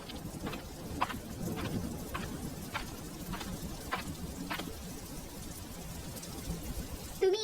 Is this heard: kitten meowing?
no